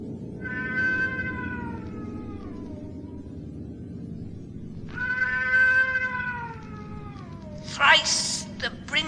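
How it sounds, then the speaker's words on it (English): A cat gives two long, drawn-out meows, loud and close, followed by a short sharp high cry near the end, over a low steady rumble of background noise. "bearded cat hath mewed thrice"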